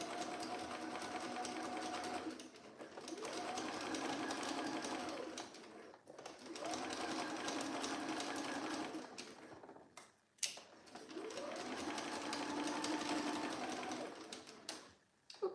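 A sewing machine stitching a jacket seam, running in three long steady whirring bursts with short pauses between them, close and even, with no voices.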